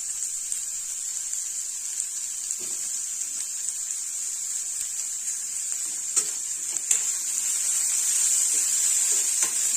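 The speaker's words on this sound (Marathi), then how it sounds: "साधारण 1 मिनिट जर आपल्याला हे परतून घ्यायचंय" Onion and capsicum sauté in hot oil in a pan, making a steady, bright sizzle that runs the whole time, with a few faint clicks and stirring taps and no talking.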